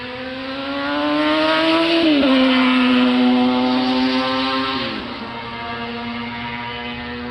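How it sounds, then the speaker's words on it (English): A stupidly loud motorcycle passing on a residential street, a strong droning engine note that swells, drops pitch as it goes by, and fades off, heard alone. "Every time there is someone with a stupidly loud motorcycle."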